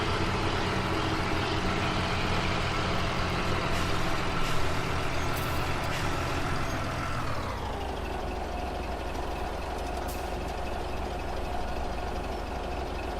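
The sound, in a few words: Caterpillar truck engine in Farming Simulator 17 (video game)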